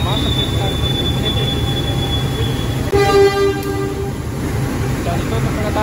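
The Senja Utama Jogja passenger train's wheels squeal and grind as it pulls away from a station, with a sustained tone and rumbling rail noise throughout, loud and nearby.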